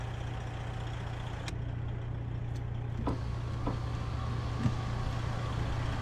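Modded engine of a Western Star 5700XE truck in American Truck Simulator, a steady low idle-like drone running throughout with a few faint clicks on top, no talking.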